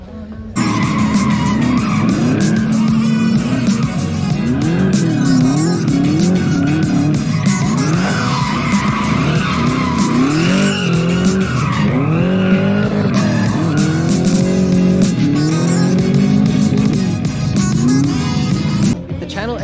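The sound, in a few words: car drifting with tire squeal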